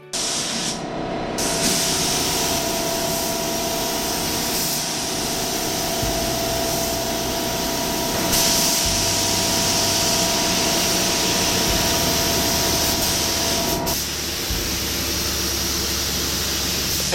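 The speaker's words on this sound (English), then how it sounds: "The paint I used was a high solid urethane that is part of the AirTech system, and I could hose this stuff on pretty heavy and not get any runs" A spray gun hoses high-solid urethane paint from the AirTech system onto aircraft wings, a loud continuous hiss with a steady compressor-like drone underneath, pausing briefly near the start and changing pitch slightly several times.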